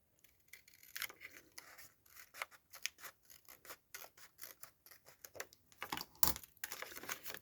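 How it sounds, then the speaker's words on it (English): Scissors snip through paper for a botanical-theme journal, a run of short, crisp cuts at close range with small rustles between them, quiet and without talk. "I'm cutting that at a corner, and I am cutting this back piece off."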